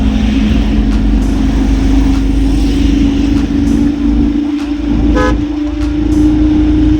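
A loaded goods truck pulls away with a steady engine drone and road rumble throughout, while a horn toots briefly over it near the end.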